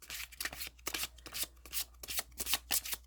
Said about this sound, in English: I could just listen to cards being shuffled forever